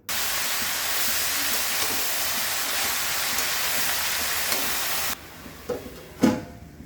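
Bay leaves and cumin seeds drop into hot oil for tempering, setting off a loud, steady broadband sizzle that holds for several seconds, then cuts out and leaves a few brief clatters nearby.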